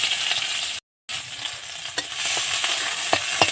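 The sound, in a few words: onion stalks frying in oil in a wok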